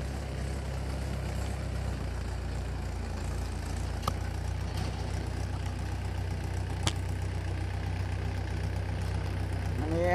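A tractor puddling a muddy paddy field, a steady low engine drone running continuously at moderate distance, with a couple of faint sharp clicks and a brief rising whine at the end.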